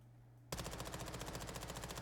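A submachine gun fires in Call of Duty MWII, starting abruptly after a short quiet hum and continuing as a rapid, evenly spaced burst of loud shots.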